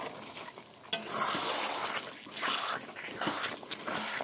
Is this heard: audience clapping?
no